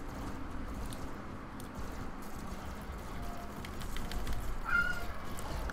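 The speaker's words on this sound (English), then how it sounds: "now's not a good time to be meowing at me" A house cat lets out a single short meow near the end, faint and a little distant over a steady low background hum.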